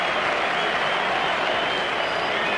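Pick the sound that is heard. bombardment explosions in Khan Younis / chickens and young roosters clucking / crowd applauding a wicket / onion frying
crowd applauding a wicket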